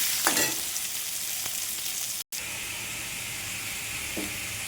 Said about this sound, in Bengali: আমি পরিমাণ মতো লবণ দিয়ে দিলাম, একটু হলুদ দিয়ে দিলাম। ভালো করে ভাজা করে নেব।